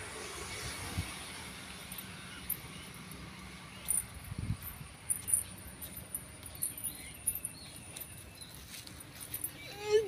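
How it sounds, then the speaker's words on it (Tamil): Faint, scattered dog whimpers and soft whines over quiet outdoor background noise. "குறும்பையா பாருங்க நாய்."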